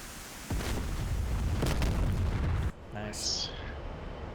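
Rockets explode in a video game, with a loud sustained boom and rumble that cuts off abruptly, followed by a quieter trailing burst and electronic tones while players talk.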